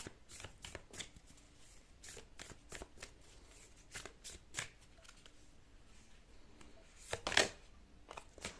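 A deck of tarot cards is shuffled close by, quietly, in a string of soft riffling and flicking bursts with one louder flurry near the end and no voices.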